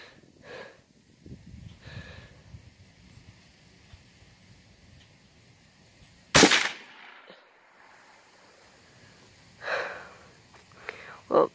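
A single sharp, loud .22 rifle shot cracks near the middle. Before and after it come breathy sounds and quiet talk.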